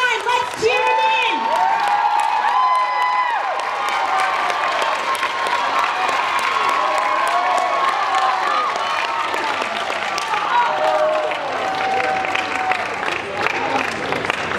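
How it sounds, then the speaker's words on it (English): A stadium crowd roars and cheers a 400m runner down the home stretch to the finish, continuous loud cheering, whoops and shouts mixed with echoing announcer speech. "Let's cheer him in."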